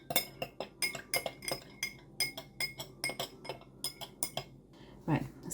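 A metal spoon stirs lemon verbena syrup and water in a glass container, making quick, evenly spaced clinks against the sides, close and fairly loud, with a short scraping sound at the end.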